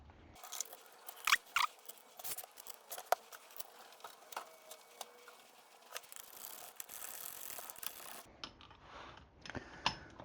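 Final drive bolts on a BMW K100 cafe racer are tightened by hand, heard as close, intermittent metallic clicks and ratcheting taps over faint shop background, with no talking.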